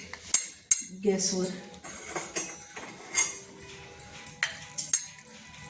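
Hot charcoal pieces placed into a metal bowl clink and clatter in a series of sharp, bright knocks of uneven rhythm, close by, with a few brief spoken words in between.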